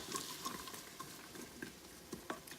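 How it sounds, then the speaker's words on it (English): Garlic, celery and carrots sauté quietly in a pan for split pea soup, a faint steady sizzle with soft crackles and occasional stirring clinks, no talking. "we're just gonna let that kind of saute for about 5 minutes"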